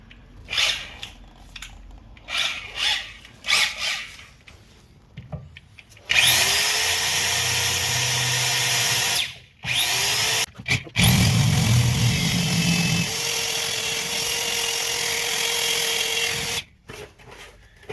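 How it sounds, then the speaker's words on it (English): Power drill boring out a bolt on a 2006-2010 Volkswagen Jetta rear hub during a wheel bearing job, several loud sustained whining runs separated by short pauses, close and alone. "So we're just gonna drill out this bolt"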